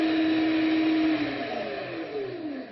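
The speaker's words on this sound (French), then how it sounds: "On va mettre le robot en marche." Electric food mixer beating eggs and sugar for a marbled cake, a loud steady motor whine with its pitch slowly sliding downward as the batter thickens, running alone throughout.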